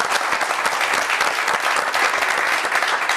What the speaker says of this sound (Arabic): تحت تصفيقات الجمهور